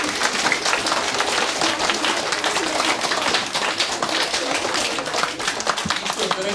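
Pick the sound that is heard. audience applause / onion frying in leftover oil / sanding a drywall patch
audience applause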